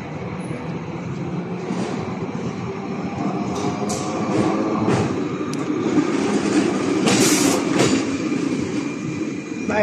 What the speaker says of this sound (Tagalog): By train.